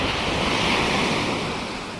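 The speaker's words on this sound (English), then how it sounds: "But we're not having surfer type waves." Small, gentle ocean waves wash steadily at a New Jersey beach, a continuous broadband surf hiss with light wind noise on the microphone, fairly loud and close, fading slightly toward the end.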